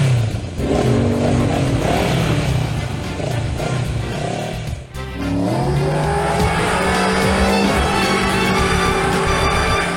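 Courier's motorcycle accelerating at high speed, a loud close engine whine rising in pitch through gear changes, dipping briefly midway before climbing again.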